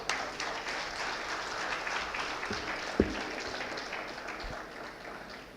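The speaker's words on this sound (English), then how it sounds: "Shri Arif Mohammad Khan, loud claps for him." Audience at a panel session on religion at a literary festival applauds a speaker being introduced, a soft, steady patter of many hands that fades slightly toward the end.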